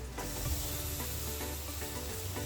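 Chopped tomatoes go into a pan of browned, fried onions during a masala methi preparation, giving a steady close sizzle with a few soft stirring scrapes and a light clatter near the start.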